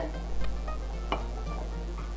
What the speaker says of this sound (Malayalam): ഇപ്പോൾ ഞാൻ കറിവേപ്പിലയും ഇട്ട് കൊടുത്തിട്ടുണ്ട്.